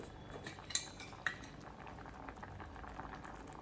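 Palak and mixed vegetable soup simmering in a pot, a steady soft bubbling hiss with two brief metallic clinks near the start, quiet and close with no talk.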